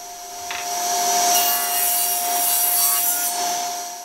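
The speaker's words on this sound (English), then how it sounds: "we can go ahead and do a very small rip on the edge to get them cut to width" A saw making a narrow rip cut along the edge of a wooden board to bring it to width for a Mission-style bookcase. The cut is one loud, continuous, close-up whine that swells and then fades, with no talk.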